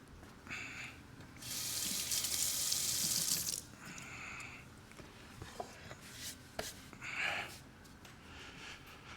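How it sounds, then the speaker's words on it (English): A kitchen tap runs as a knife is rinsed after preparing beef stew. There are short bursts of water, one longer steady gush in the middle, and soft clinks, all close and fairly quiet. "let me rinse my knife off"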